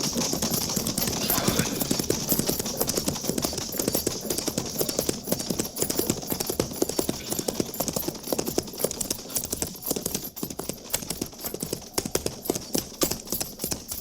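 A single horse's hooves clip-clop in a fast, steady rhythm, close and prominent for the whole stretch as a lone rider approaches on a frontier cavalry post in the Old West.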